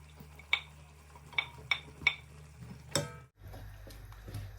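Chunks of potato and carrot drop into a cooking pot for chicken curry, a few sharp clinks and knocks against the metal spaced apart, followed by a quieter low hum.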